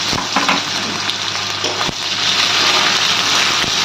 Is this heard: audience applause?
no